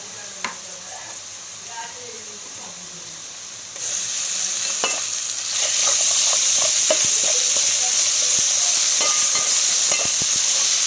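Ginger garlic paste and onion paste frying in a pan for a chicken fry, first a soft sizzle, then a louder steady hiss with scraping and clinking as a spoon stirs the mixture close by.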